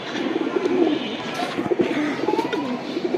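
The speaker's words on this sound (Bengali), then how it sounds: "কালো গলা জাতের একটি মাদি কবুতর" Black-necked breed pigeons coo in low, rolling bursts close by, steady and continuous with no voices.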